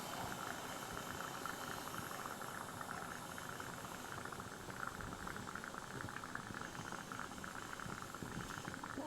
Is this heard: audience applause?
no